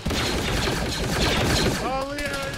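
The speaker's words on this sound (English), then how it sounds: "What is that? What is shooting?" Dense, rapid bursts of gunfire crackle continuously in a military video game, a loud overlapping fusillade that fills the whole moment before briefly thinning.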